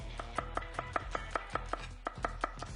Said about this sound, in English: Slice the onions, don't get too fancy, okay?